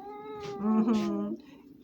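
A house cat lets out a long, drawn-out, complaining meow close to the microphone, rising and then falling over about a second as someone speaks alongside it.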